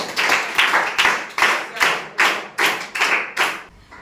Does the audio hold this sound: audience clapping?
yes